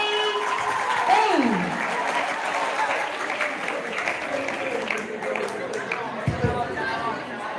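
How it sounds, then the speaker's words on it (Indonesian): An audience applauds a storytelling contestant named Hanun, a steady wash of clapping and crowd chatter that runs throughout, with voices murmuring underneath and occasional louder bumps. "give a applause for Hanun from A"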